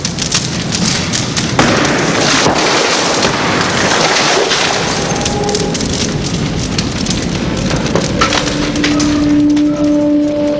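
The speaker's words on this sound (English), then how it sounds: "A room that flashes over becomes like a furnace unable to contain the heat it is generating, unleashing incredible flame, heat, and toxic gases throughout a building." A flashover fire roars through a room, a loud, dense, continuous rush of flame with crackling and splintering wood, steady and unbroken throughout.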